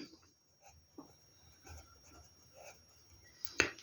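Quiet scratchy strokes of writing on a board in a classroom-style lesson, soft and intermittent, ending with a sharp tap near the close.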